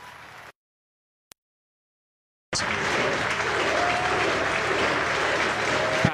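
Crowd applause at a football match between Lincoln Red Imps and Celtic in Gibraltar, 2016: a brief burst, a silent gap with one click, then loud sustained clapping and crowd noise filling the rest.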